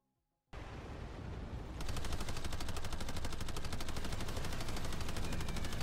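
Turret gunfire in a video game hammers out as a dense, continuous rapid-fire stream, starting abruptly and growing louder and more intense after a couple of seconds, with no voices over it.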